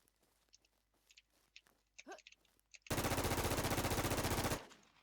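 Automatic gunfire in the online zombie survival game WarZ, a loud, fast, sustained burst of rapid shots lasting almost two seconds, with a voice and game noises before it.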